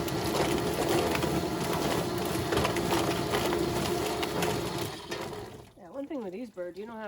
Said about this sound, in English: That's a laying hen right there.